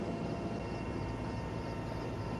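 A helicopter flies over a flooded area in Jammu and Kashmir, dropping food packets to stranded people, with a steady, dense rotor and engine roar throughout and no pauses.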